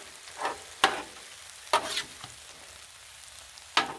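Chili with ground meat, beans and tomatoes cooking on a Blackstone griddle, a low sizzle broken by several sharp scraping stirs of a spatula, close and with no talking.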